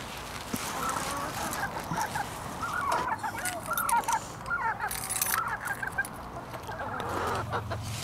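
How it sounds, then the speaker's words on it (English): Backyard chickens cluck and squawk at feeding time in a kitchen garden, a busy, continuous chorus of overlapping clucks and calls at close range, with outdoor background noise throughout. "why don't we go feed the chickens?"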